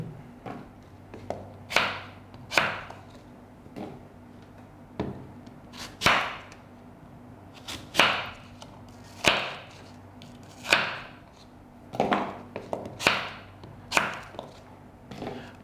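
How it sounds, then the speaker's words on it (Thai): A knife chops firmly through crisp green apples in a steady series of sharp cuts, roughly one every second, close by with no talking. "ผมจะตัดเอาไส้แอปเปิลเขียวเนี่ยทิ้งไปนะครับ"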